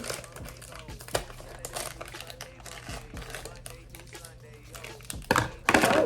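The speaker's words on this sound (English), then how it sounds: "I'm gonna cut the top without cutting a headband." Crinkly plastic packaging from an Amazon order rustles and crumples while scissors snip through the top, a series of close crackles and clicks without words over them.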